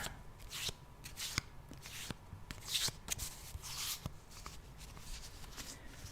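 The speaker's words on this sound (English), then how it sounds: "You can hear the shuffling sounds right next to your ear." Tarot cards being shuffled close up in repeated riffles and soft slides, a steady rhythm of papery flutters with brief pauses between.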